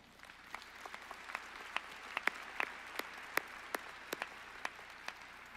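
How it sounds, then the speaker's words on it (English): Applause at a university commencement, with faint scattered hand claps and a few sharp distinct claps over a quiet hall, the clapping sparse and thin. "So give yourself a round of applause."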